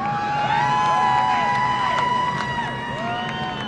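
Race crowd at a Wisconsin track cheering Paul Menard's win, a steady roar of distant cheering and whoops under a loud commentator's voice.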